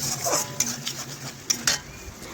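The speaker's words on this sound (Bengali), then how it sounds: "এখন আলু ও মশলার সাথে আবারও একটু রান্না করে নিচ্ছি।" Potatoes being cooked with spices in a pan for a Bengali rohu fish-head curry, heard as a few sharp utensil clinks and scrapes against the pan over a faint low background, with no talking.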